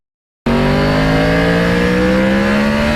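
A Yamaha R1 motorcycle with a cross-plane engine rumbles loud and close after a second of silence, its uneven idle holding steady and unbroken with no talking.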